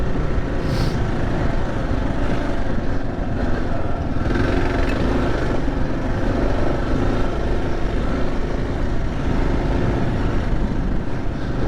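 A Kawasaki KLR 650 motorcycle rolls along off throttle, its engine decelerating as a steady droning rumble heavily masked by constant wind roar, loud and unbroken throughout.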